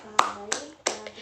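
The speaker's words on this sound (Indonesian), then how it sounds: "Beri tepuk tangan untuk kelompok 2." Three sharp hand claps in a classroom after a group presentation, spaced evenly and close by, with faint room noise between them.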